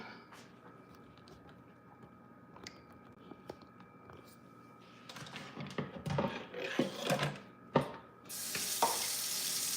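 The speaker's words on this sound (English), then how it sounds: "Let me rinse out this cup." A cup is handled and rinsed in a kitchen sink: faint clicks and knocks build into clattering, then running water gushes as a steady hiss for the last second, close and moderately loud.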